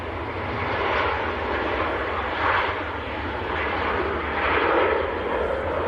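Turkish Airlines Airbus A321 jet at Manchester Airport in freezing winter weather, a steady broadband engine roar with swelling surges, heard at moderate distance and alone.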